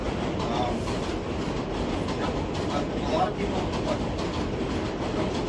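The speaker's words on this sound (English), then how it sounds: "This is another train passing." A train passes close by, a loud continuous rumble with clickety-clack wheel noise, while a voice talks over it.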